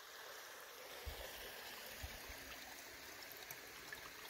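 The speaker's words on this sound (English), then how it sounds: "this is the headwaters of that Hemlock Brook that I showed on the last view of the map" The headwaters of Hemlock Brook run over boulders in a Connecticut preserve, giving a steady, faint rushing trickle with a few soft splashes, and nobody speaks.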